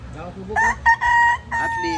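A rooster crows close by, a loud drawn-out cock-a-doodle-doo broken into several strained segments.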